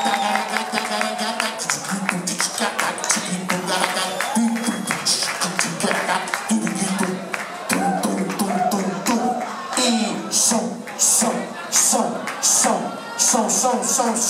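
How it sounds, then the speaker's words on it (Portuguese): Nightclub audience at a dance club show clapping and cheering in bursts, with rhythmic claps and shouts mixed with talk and loud background music. "Aplausos aqui."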